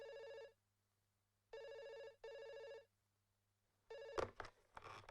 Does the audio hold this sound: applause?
no